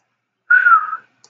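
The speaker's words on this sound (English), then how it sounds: "that was a really bad whistle" A single short human whistle, one steady slightly wavering tone lasting about half a second, close and clear against silence.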